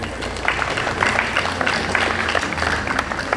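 Students at a school assembly clap their hands in a steady, crowded burst of applause, moderately loud and continuous throughout.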